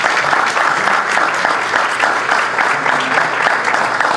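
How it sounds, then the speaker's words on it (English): Thunderous audience applause at a book launch, a dense, steady wash of clapping from a sizable crowd that fills the whole moment without letup. "And may I please request, in your thunderous applause, Dr. Amir Rahman to join us on the stage."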